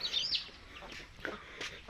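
A mother hen makes a few short clucks and soft calls, fairly quiet, with brief higher chirps at the start.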